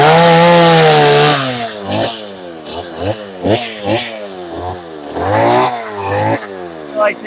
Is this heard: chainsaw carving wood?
yes